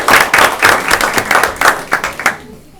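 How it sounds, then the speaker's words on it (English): At a school board of education meeting, a modest audience applauds the students and coaches with brisk, close clapping that runs for a couple of seconds and then fades out. "Let's give them a round of applause."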